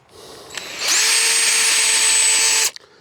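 A power drill polishing the headlights of a 2005 Toyota Prius at its slow setting: a single close whine lasting about two seconds, starting and stopping abruptly.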